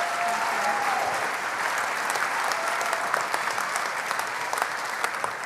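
A crowd at a benefit cook-off applauds the students who shared their stories, steady and fairly loud clapping that holds at an even level throughout.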